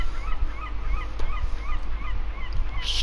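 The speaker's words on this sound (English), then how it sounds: "Stupid birds." Geese honk repeatedly at a steady distance over a low rumbling background, their calls recurring in short bursts throughout.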